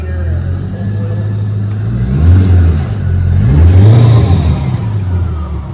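A C5 Corvette's engine idles and revs after a clutch job, a loud steady drone that swells twice with rising throttle, with people talking nearby.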